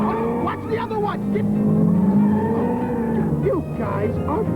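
Car engine revving nearby as tires squeal in sustained skidding, rising and sliding in pitch over several seconds while someone talks over the noise.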